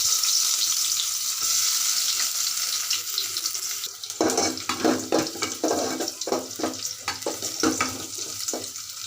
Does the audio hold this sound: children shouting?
no